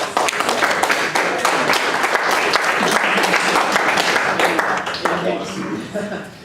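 Task force members at an energy task force meeting clap together, a fairly loud burst of many hands that fills most of the moment and thins out toward the end, with voices mixed in underneath.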